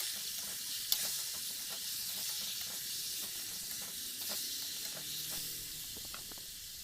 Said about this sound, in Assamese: এতিয়া ইয়াতে দি দিছোঁ কাটি লোৱা আমখিনি। এতিয়া এইখিনি ভালদৰে লৰাই ল'ম।